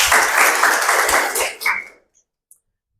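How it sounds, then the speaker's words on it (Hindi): An audience at a Hindi spiritual talk applauds in a loud burst of close clapping that fades out after about two seconds, leaving near silence with a few faint stray sounds. "ताली बजाओ भाई इनके।"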